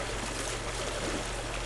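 A river flows nearby outdoors in winter, a steady, full rushing and gurgling of water with no talk, running evenly throughout.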